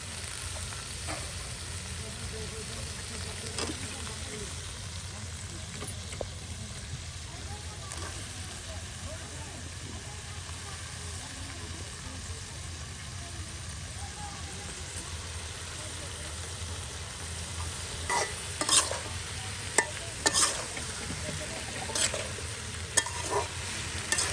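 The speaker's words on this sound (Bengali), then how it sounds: "এখন কচুর লতিগুলো ভেজে নেওয়া হবে একসাথে" Taro stolons sizzling and frying in a pan with spices while being stirred, a steady crackling hiss throughout with sharper utensil scrapes and clicks toward the end, at close range.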